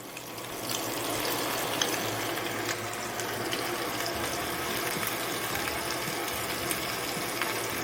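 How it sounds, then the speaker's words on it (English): Onions and ground beef patties fry in a pan, giving a constant broad hiss that swells in after a quiet start and carries on evenly with small pops. "Let the onions and the ground beef patties cook."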